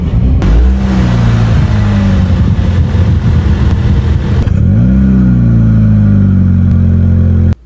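A 2022 MINI Cooper S accelerates hard, its engine note climbing through the revs, dropping at a gear change and rising again, loud and close throughout with no voices.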